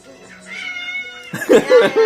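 A household's first pet cat meows several times, clear and close, high plaintive calls with a voice talking softly underneath.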